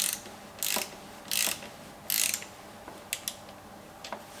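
Torque wrench ratcheting on a mountain bike rear shock fixing bolt, a few distinct close bursts of clicking separated by pauses, followed by lighter single ticks.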